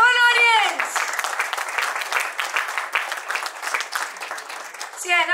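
Applause breaks out from an audience at a business seminar, a dense burst of clapping that follows a speaking voice and fades as a voice returns at the end.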